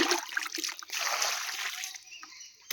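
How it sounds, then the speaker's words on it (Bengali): Water from a garden tap splashes and trickles as feet are washed, with irregular splatters and sloshes close by, tapering toward the end before a final splash; no speech. "চলুন বাগানের এই কন্ডিশন, পা পাগুলো ধুয়ে ঘরে ঢুকে পড়ি।"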